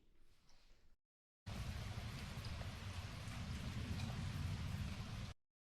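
Steady rain falls on a gloomy morning in Berlin, a dense, even patter of drops heard close and constant for several seconds after a short quieter stretch.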